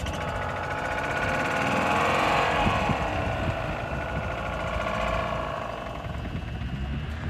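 The gas engine of a 2007 Club Car Carryall 2 utility vehicle runs steadily at close range, a loud, rough, rattling drone with a slight swell in the middle and no talking.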